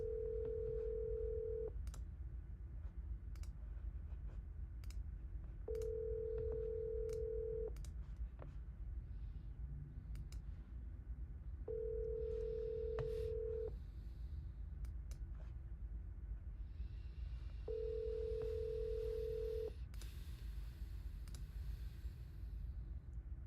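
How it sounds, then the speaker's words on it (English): A telephone ringback tone sounds four times, each long beep followed by a few seconds of quiet, steady and clear over a low room rumble with occasional faint clicks. "I gotta call this person back."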